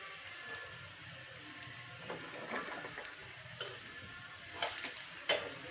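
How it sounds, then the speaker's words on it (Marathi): A Manchurian thalipeeth flatbread roasts in a little oil on a pan, giving a faint, steady sizzle with a few soft taps and scrapes of a spatula. "हे थालीपीठ मी छानपैकी शेकून घेते सगळीकडून मी तेल सोडून घेतलेलं आहे"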